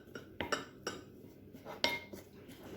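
Spoon clinking and scraping against a bowl while stirring a homemade honey acne face paste, several sharp taps in an uneven rhythm, close and quiet.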